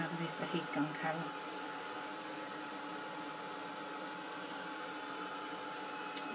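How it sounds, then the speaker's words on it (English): A heat gun dries sparkle spray on card with a steady, loud whirring hiss of hot air. It keeps going throughout, with brief faint voices near the start. "Don't wave your finger around underneath the heat gun, Carol."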